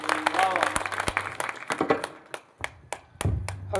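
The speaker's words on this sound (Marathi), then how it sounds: "मृदंगासाठी एकदा जोरदार टाळ्या वाजवा." Audience at a kirtan performance claps for the mridang player, scattered sharp claps that thin out into a few isolated ones, mixed with a voice and a sustained tone at the start.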